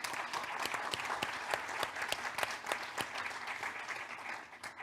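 Steady applause from a conference keynote audience, many hands clapping together in a dense, continuous patter that holds evenly throughout.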